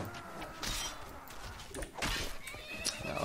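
A horse neighs and whinnies loudly in the medieval combat game Mount & Blade Warband, with a shrill high cry followed by further snorting whinnies and dull thuds of battle close by.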